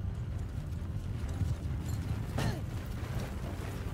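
Horse hooves clip-clop steadily in a Mount & Blade 2: Bannerlord battle, moderately loud over a low rumbling background, with a brief creak and a possible whinny midway.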